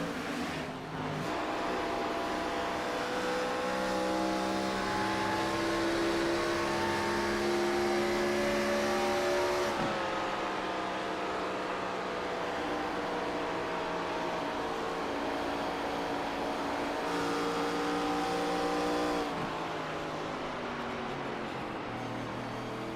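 Race cars in a racing video game drone steadily for over twenty seconds, a loud layered engine whine whose pitch shifts down at about ten and nineteen seconds as gears change, with no talk.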